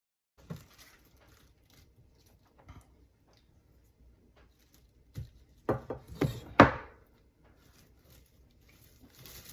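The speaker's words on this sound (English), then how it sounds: "We're gonna slice it thin, make shreds." Knife cutting iceberg lettuce into thin shreds for a BLT pizza: a few soft scattered taps early, then a close cluster of crisp crunchy chops, alone in a quiet kitchen.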